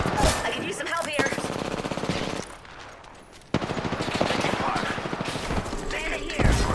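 Rapid automatic gunfire bursts in a squad-based shooter video game, loud and close, with a brief lull midway before firing resumes, under short voiced game callouts.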